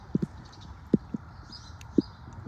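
Hooves of the horse Slipstream, under a rider, strike softly during a dressage half pass at a clinic: a few spaced, muffled thuds in pairs and singles against a quiet background.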